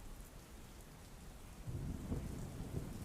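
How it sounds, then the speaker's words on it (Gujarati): Heavy rain falls in Valsad with a steady wash of drops, and a low rumble of thunder swells in the second half; fairly faint overall and with no voices. "તો વલસાડમાં ધોધમાર વરસાદ વરસ્યો છે"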